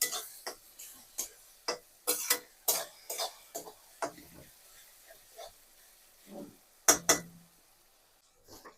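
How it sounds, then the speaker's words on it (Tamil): Ginger garlic paste fries in a pan while being stirred. Intermittent sizzles and scraping spoon strokes come in a quick, irregular rhythm, close and fairly quiet, with a few louder clatters near the end. "நல்லா இஞ்சி பூண்டு ஸ்மெல் போகிற அளவுக்கு நல்லா மிக்ஸ் பண்ணணும்."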